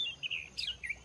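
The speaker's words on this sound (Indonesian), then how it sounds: "kok cuma suara burung" Birds give several short, bright chirps and tweets along a road through a coffee plantation, close and clear over quiet background hiss.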